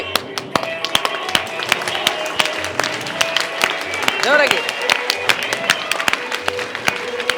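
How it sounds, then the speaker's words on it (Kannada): A group at a yoga camp claps hands in quick, steady unison beats, crisp and fairly loud, while an instructor calls out over the rhythm. "ಚಪ್ಪಳೆ"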